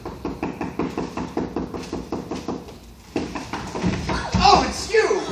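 Rapid, evenly spaced knocking on a stage-set door during a rehearsal of the farce Noises Off, a steady run of moderately loud raps for about three seconds, followed by scuffling, clattering stage noise.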